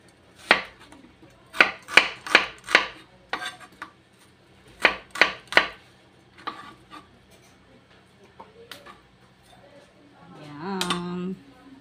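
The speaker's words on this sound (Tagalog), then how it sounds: "Onion guys, i-slice lang natin." A knife slices an onion on a board in quick groups of three or four crisp cuts, with short pauses between them. A brief voice is heard near the end.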